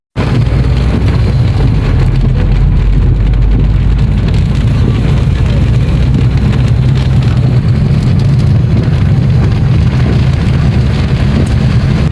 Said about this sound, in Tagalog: Raining season na.